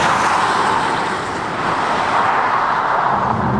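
Peugeot 508 with an automatic gearbox accelerating while overtaking: a steady, loud broadband engine and road roar runs continuously throughout, heard from inside the car with no talking.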